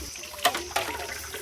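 Very cold water poured over a bather at a public spring, heard as two short splashing bursts a third of a second apart, followed by faint dripping against quiet outdoor background.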